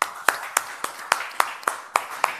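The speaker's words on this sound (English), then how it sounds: "I think this deserves a round of applause." A single pair of hands claps during an online software product release presentation, about nine crisp, evenly spaced claps close to the microphone with quiet between them.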